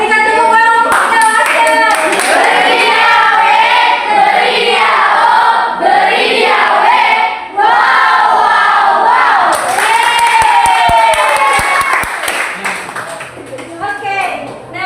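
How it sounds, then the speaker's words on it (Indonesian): Classroom of students claps for a classmate, with loud excited voices and shouting mixed in and rhythmic clapping bursts near the end. "berikan tepuk tangan untuk Asep."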